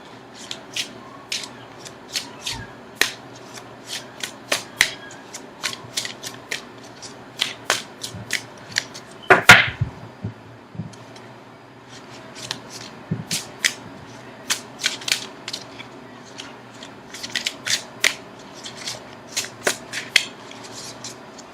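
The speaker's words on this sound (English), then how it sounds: "now I'm going to shuffle for an outcome card" Tarot cards are shuffled repeatedly, making soft riffling flutters and crisp taps in an uneven rhythm, with a slightly louder flurry near the middle.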